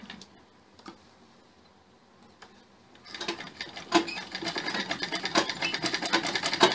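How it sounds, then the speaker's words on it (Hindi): Sewing machine stitching the Chinese collar of a sherwani, starting with a few sparse ticks, then after a quiet pause breaking into a fast, steady rhythmic clatter, close and growing louder. "ये देखिए इसी तरीके से हमने इसकी सिलाई करनी है।"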